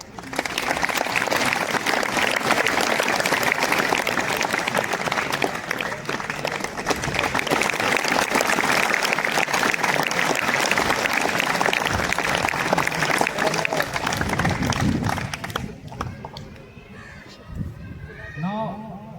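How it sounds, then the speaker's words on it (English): Students clapping at a school event welcoming a soft tennis silver medalist, with garlands offered: loud, dense applause running for about fifteen seconds before it drops away and a voice speaks over the quiet. "So dear student, please never forget to clap."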